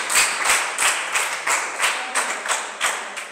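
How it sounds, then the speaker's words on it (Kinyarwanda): Congregation in a church service claps in a steady rhythmic beat, roughly three claps per second, the sharp regular strikes close and full with a bright crowd texture and no voices rising above them. "Reka nawe tukomere Imana yo mu ijuru amashyi menshi n'impundu"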